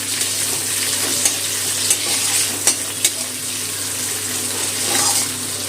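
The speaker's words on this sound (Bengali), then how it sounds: "পেঁয়াজটা একটু ভাজা হয়েছে" Onion and whole spices frying in oil for a raw mango and rohu fish sour curry, a loud close hiss of sizzling with a few sharp stirring knocks, no voices.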